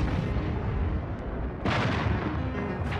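Large-caliber breech-loading artillery fires in heavy, booming blasts, with a sharp new report about halfway through and another near the end over a continuous loud rumble.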